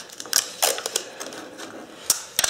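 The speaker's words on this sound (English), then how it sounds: "I'm just using Scotch tape." Scotch tape pulled and pressed onto the corners of a wood cube readied for a wood lathe drive system, a close series of sharp clicks, rips and crackles in irregular bursts, no talk.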